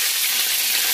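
Fennel seeds and curry leaves sizzle in hot oil for a Tamil mutton curry, making a steady, close, bright frying hiss with no talk.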